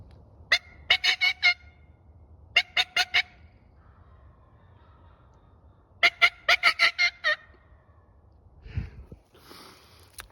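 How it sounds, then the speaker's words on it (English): A wild turkey gobbles in three bursts of rapid, rattling calls, loud and fairly close against a quiet outdoor background, followed by a short low thump and faint rustling. "I gotta send you guys off with one more gobble."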